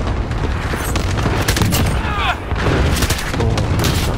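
Gunfire in Call of Duty Modern Warfare on the Shipment map: dense bursts of shots and heavy booms crowd together in a loud, continuous volley with no gaps.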